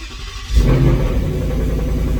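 A 2022 Ford Mustang GT V8 fires up after a brief quiet moment: a sudden loud crank-and-catch burst, then a steady, deep rumbling idle that holds close and full for the rest of the clip.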